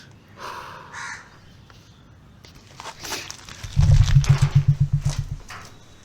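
A crow caws in a rapid run of loud, close, evenly spaced calls in the second half, preceded by quieter background sounds and faint rustling.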